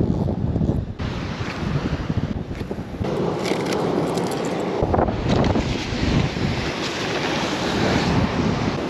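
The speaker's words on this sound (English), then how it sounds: "it's extremely windy now" Strong wind at the sea buffets the microphone in a loud, continuous roar with gusty surges, mixed with the wash of waves during a fishing trip in Japan.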